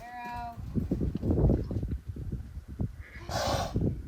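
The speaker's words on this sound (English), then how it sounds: "You can hear his classic dragon snort" A mustang snorts and blows in loud, rough bursts of breath, close by, with a shorter snort near the end.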